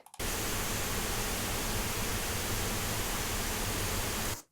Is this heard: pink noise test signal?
yes